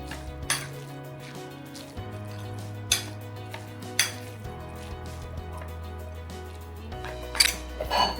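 Mango pickle with Kashmiri chilli powder stirred in a metal pot, a spoon clinking and scraping against the sides in irregular knocks over a low steady hum.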